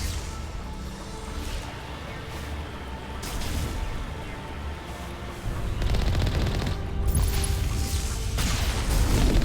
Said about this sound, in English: there's another Colossus farther ahead. And it's already shooting at me